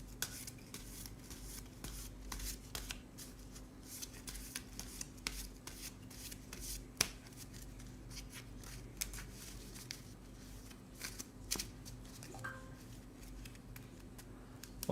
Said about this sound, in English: Or like shuffling cards ASMR.